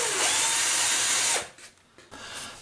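An electric drill with a 3.5mm bit enlarges a hole, whining loudly and steadily for over a second before stopping abruptly, followed by faint handling noises.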